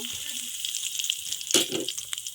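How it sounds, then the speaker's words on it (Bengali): Cumin seeds hit hot oil with a crackling sizzle, a sharp burst of spitting and fizzing over a steady frying hiss. "এখন জিরে ফোড়ন দিয়ে দেব"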